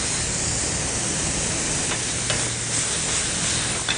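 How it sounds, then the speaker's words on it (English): Pork mince browning in a hot pan, a steady close sizzle and frying hiss with occasional scraping stirs of a utensil cutting through it, no voices. "Now we're browning the pork mince."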